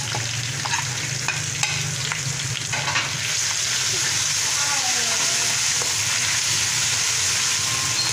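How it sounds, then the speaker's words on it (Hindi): Garlic and ginger frying in oil in a pan for sarson ka saag, a steady broadband sizzle with occasional stirring scrapes, close and continuous, with brief faint talk in the background. "अब इसमें अदरक डालेंगे हम।"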